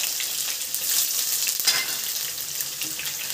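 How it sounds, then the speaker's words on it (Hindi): A medium onion, freshly chopped, hisses steadily in hot oil, a dense close sizzle that holds at an even level with one brief flare near the middle and no talking. "हम इसको तेल में डाल देंगे,"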